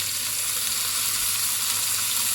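Onions, garlic, carrots and celery sizzle steadily in a stew pot with beef, a loud, even frying hiss that runs unbroken and close throughout.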